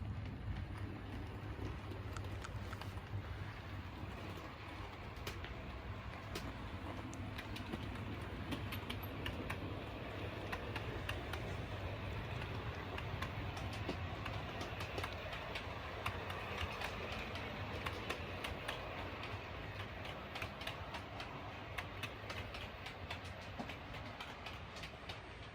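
A model railway train on a Yorkshire Dales layout runs steadily along the track down a gradient, giving a continuous close rumble with faint wheel clatter throughout and no talking.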